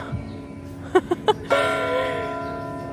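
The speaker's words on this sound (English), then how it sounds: "Let's enjoy the bells." Church bells ring in Braga, Portugal, a few quick separate strikes followed by a loud, sustained ringing peal that hangs and decays, close and resonant.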